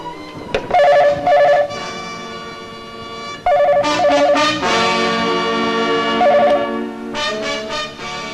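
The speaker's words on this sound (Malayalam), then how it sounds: "ബെല്ലടിക്കുന്നുണ്ട്, ആരും എടുക്കുന്നില്ല." A telephone rings in repeated bursts of a loud electronic tone, pausing between rings, over a faint background of music.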